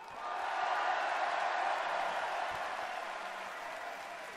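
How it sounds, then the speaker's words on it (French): Large crowd at a political party anniversary rally applauding and cheering, a dense sustained roar of clapping that swells early and holds steady, loud and continuous throughout. "je vous demande d'applaudir, de faire encore plus de bruit pour nos 3 vice-présidents"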